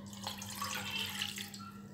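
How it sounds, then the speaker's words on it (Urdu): Water poured into a karahi, a steady, fairly loud liquid rush filling the pan throughout, with no voices. "سب سے پہلے کڑھائی میں پانی شامل کرتے ہیں"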